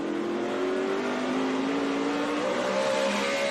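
A NASCAR race car engine at 9,500 rpm in the 2012 Goody's Fast Relief 500 holds a steady high-pitched drone, with its pitch climbing slightly. The engine is loud and continuous, with no speech.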